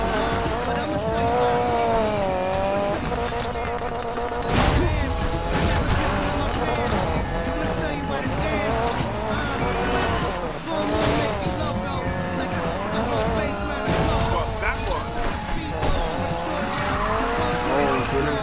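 Car drifting with squealing tires in the video game Need for Speed Payback, a continuous engine roar with wavering skid tones throughout, loud and up front while someone talks over it.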